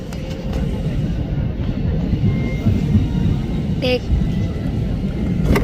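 A fixed-wing airplane taking off makes a steady, loud, low engine roar that carries through the whole stretch, with faint voices underneath.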